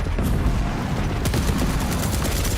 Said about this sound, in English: The strafing won't save you there as Av3k nails him into the ground